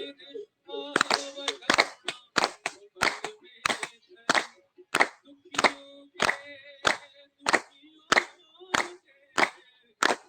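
A group claps in unison at a yoga session, sharp rhythmic claps repeating steadily about every half second, close and loud, with a faint voice heard early on.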